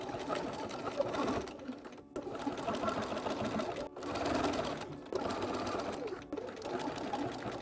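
A home sewing machine stitches a half-inch seam on a Barbie Swan Lake inspired dress, running in steady rapid bursts with a few brief stops between runs, close and clear.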